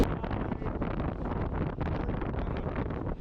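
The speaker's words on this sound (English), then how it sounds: "it's so windy up here." Strong wind buffets the microphone atop a waterslide tower at a water park in Phoenix, a loud steady roar filling the whole moment with no voices.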